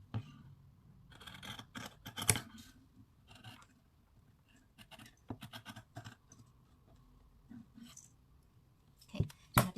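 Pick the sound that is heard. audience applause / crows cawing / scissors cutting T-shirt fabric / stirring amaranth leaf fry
scissors cutting T-shirt fabric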